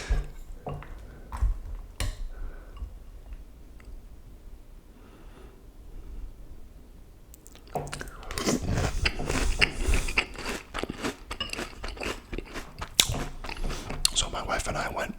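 Someone eats cereal with milk close to the microphone: quiet, wet chewing at first, then dense, loud crunching with sharp crackles in the second half, and some talking woven in.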